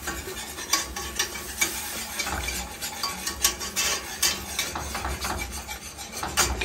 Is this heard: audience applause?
no